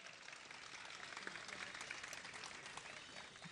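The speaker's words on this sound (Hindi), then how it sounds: "तालियां अपने लिए" Faint, steady applause from a seated religious discourse audience continues evenly for a few seconds, with no voices standing out.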